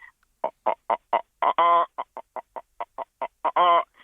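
A voice imitates a chicken, giving a quick run of short clucks and two longer drawn-out squawks, loud and close, with no other sound.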